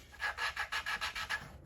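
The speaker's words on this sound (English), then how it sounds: "work it back and forth. I'm sort of redistributing the lapping compound when I do the taps" Rhythmic rasping rubs as a Toro Recycler push mower engine valve is lapped back and forth against its seat with lapping compound, about eight even strokes in quick succession, close and fairly loud with no talk.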